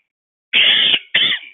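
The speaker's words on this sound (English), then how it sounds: "sorry about the cough" A presenter gives two sharp throat-clearing coughs, a longer burst followed by a shorter one, loud and close against silence.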